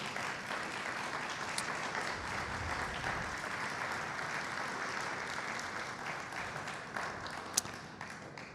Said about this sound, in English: I think we should give them another round of applause.